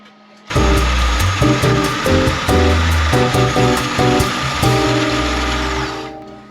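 An electric mixer grinds red flattened rice (aval) in a loud, steady whir, revving up and down in short pulses with rattling grains, and stops near the end.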